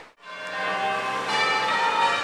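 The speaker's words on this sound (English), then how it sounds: "The bells are not from St Paul's. They're from this church." Church bells ring from a church near St Paul's Cathedral in London during the Occupy London protest camp, a loud, sustained ringing peal that sounds alone.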